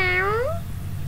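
A cute kitten meow sound effect: one clear, high, drawn-out meow that slides upward and fades within about half a second, loud and close, with no talk.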